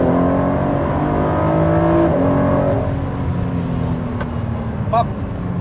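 A Ford GT sports car accelerates from inside the cabin, its engine note climbing through the revs and then easing off after an upshift, loud and close, with a brief sharp squeak near the end.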